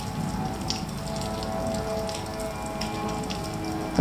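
Steady rain falling, a dense even patter with scattered louder drops, continuous and fairly close throughout, with no voices.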